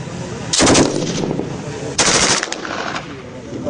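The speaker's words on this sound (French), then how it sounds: "les essais des armes KCR 556, KMR 762 et les Rafales ont séduit plus d'un." KCR 556 and KMR 762 rifles are test fired in two loud, rapid automatic bursts a second and a half apart, close and sharp, with faint voices underneath.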